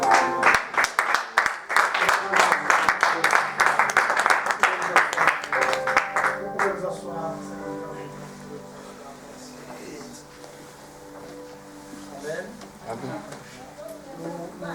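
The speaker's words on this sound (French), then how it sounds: "Applaudissez," A church congregation claps in a fast, steady rhythm for about six seconds, then the clapping stops and softer voices and sustained tones carry on.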